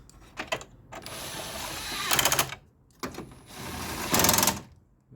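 A ratchet tightens 10mm nuts back into their slots on a Chevy Equinox, two long buzzing runs of rapid clicks, each ending in a louder, faster burst, close up with no talking.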